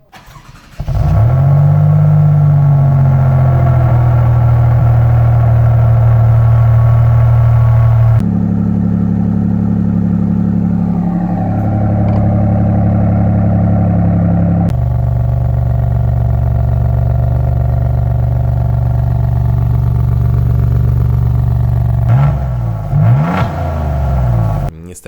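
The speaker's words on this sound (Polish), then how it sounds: "centralnie umieszczony wydech z 2 końcówkami wydechów, które zostały wykonane przez Akrapowicza" An Alfa Romeo Giulia GTAm with a 2.9 V6 and a titanium Akrapovič exhaust with two central tailpipes starts and idles loudly and deeply up close, with a few blips of revving and a steady rumble throughout.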